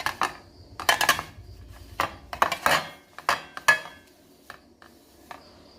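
Metal idli cooker plates being handled, sharp clinks and clattering knocks in quick irregular clusters, close and fairly loud, then fading to a few lighter taps.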